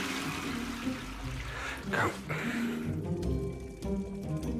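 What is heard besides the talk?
toilet being flushed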